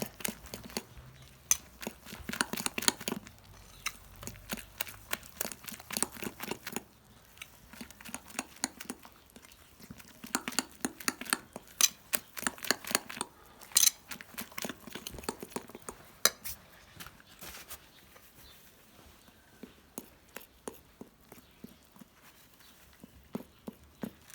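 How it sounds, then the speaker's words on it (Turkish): Zucchini fritter (mücver) batter is whisked in a bowl, giving rapid rhythmic clinks and taps of the whisk against the bowl. The strokes come in quick bursts with short pauses, close and clear, with no talk. "Tabii ki o özdeşene kadar daha çırpacağım."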